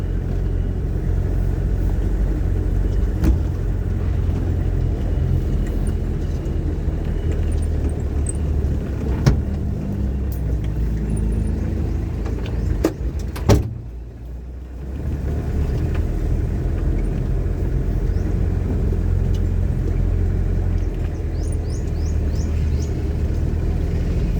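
A car with a loud, big exhaust pipe gives off a deep, steady rumble close by, broken by a brief dip and a few sharp knocks partway through.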